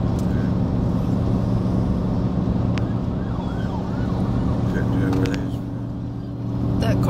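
A police car siren wails with a rising and falling tone, partly masked by steady road and engine rumble inside a moving car on a highway during a high-speed chase, while people talk over it.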